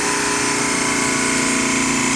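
A Carrier refrigeration compressor runs steadily after about 20 minutes of operation, a loud, even mechanical drone with a dense hum and constant rattle, close up and with no break.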